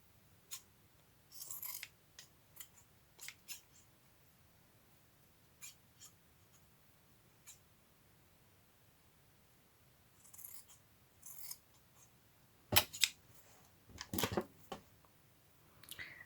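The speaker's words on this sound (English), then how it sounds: "Get my other scissors." Scissors cut through paper and fabric for a craft kit in short, scattered snips separated by quiet pauses, fairly close and with no talking.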